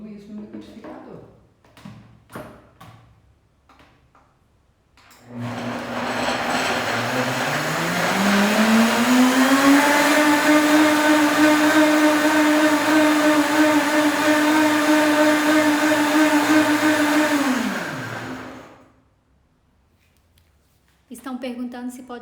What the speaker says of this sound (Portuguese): Vamos bater tudo isso no liquidificador.